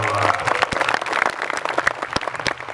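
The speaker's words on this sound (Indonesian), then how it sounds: "Maka tepuk tangan untuk Pak Bupati." Applause for the regent at an Islamic boarding school gathering: an audience claps in a brisk, fairly close burst, with distinct loud claps popping out from the steady clatter.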